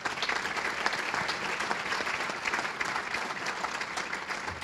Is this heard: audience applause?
yes